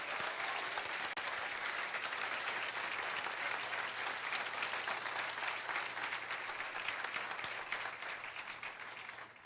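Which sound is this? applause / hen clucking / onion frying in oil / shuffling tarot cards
applause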